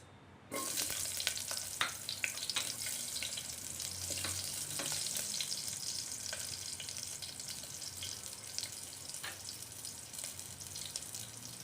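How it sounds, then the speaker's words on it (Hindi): Onions dropped into hot oil in a pan for sambar rice, bursting into a loud, steady crackling sizzle with scattered pops that keeps going close up, no one talking. "तो तेल हमारा अच्छे से गर्म हो चुका है। मैं डालूंगी इसमें प्याज"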